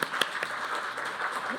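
An audience at a cybersecurity institute's founding seminar applauds, a soft, brief patter of clapping with a few sharper claps near the start.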